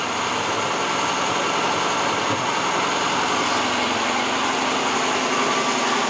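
A wood-fired gas generator built for a car runs with a steady, dense roar and hiss that holds evenly throughout, with no pauses and no voices.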